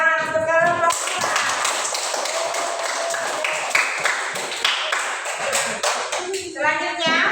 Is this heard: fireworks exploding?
no